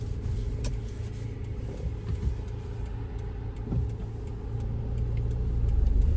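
A car engine hums low and steady from inside the cabin during a driving test route in Naas, with a soft road rumble that swells slightly toward the end.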